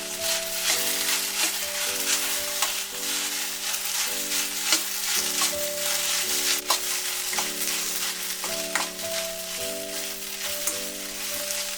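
Okra (lady's finger) stirs and fries in a pan for vendakkai poriyal, giving a steady close sizzle with repeated scraping strokes of the spatula throughout, and no talk.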